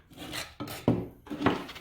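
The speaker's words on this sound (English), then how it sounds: "Also using the tin snips as I was before." Tin snips cutting sheet metal for electric unicycle pedal spikes: three separate sharp, crunchy metallic snips spaced about half a second apart, close and fairly quiet.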